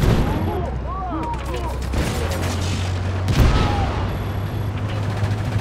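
Constant Just Cause 3 gunfire and booming explosions fill the mix, with bursts of shots, low rumbling blasts, and a voice talking over the chaos.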